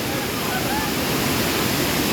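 Water at Tomara waterfall roars in a steady, broad, loud rush that never lets up, close by and filling the short moment.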